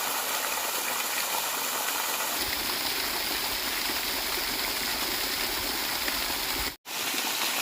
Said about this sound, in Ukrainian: Ця вода, яка тече з висоти